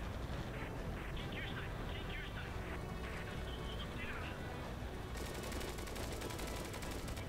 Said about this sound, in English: I'm trying to shoot things,